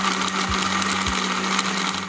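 Electric kitchen blender running steadily as it blends falsa berries with ice, sugar and water into sharbat, a continuous whirring hum with slight rhythmic pulsing, close and alone.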